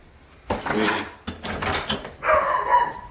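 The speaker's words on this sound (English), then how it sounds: "I love my neighbor's dog." A neighbor's dog barks outdoors in several loud bursts, each a short cluster of barks with a brief pause between them and one longer, more tonal bark toward the end.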